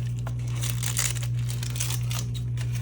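Scissors snip through the end of a plastic piping bag filled with resin, a close crinkling of plastic handled and cut over a steady low electrical hum, with no talking.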